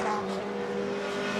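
A Tyrrell 012 Formula 1 race car from the early 1980s drives past at a historic race, a brief loud, high engine note that stays steady for about a second and a half.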